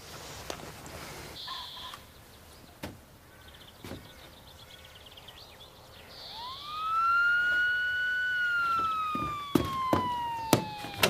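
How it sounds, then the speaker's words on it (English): Police car siren wailing at a distance, a rising then slowly falling tone with faint electronic chirps, fairly quiet, mixed with clattering outdoor noises. "Police car."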